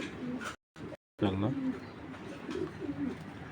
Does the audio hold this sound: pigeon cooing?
yes